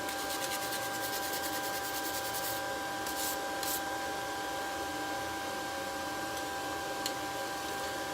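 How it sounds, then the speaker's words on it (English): A wire brush scrubs scale off a hot forged steel bracelet during burnishing, producing a steady close rasping with rapid repetitive strokes early on and a few sharper scrapes. "it's basically just letting it cool as you're continuing to brush scale off"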